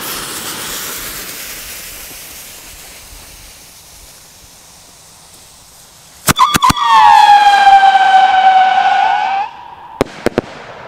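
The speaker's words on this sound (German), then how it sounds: "Drei auf Schlag jetzt hier, angezündet mit dem Gunburner." Three fireworks lit together with a gun burner go off after a quiet stretch, with sharp cracks followed by a loud, whistling tone that slides downward for a few seconds, then more crisp pops.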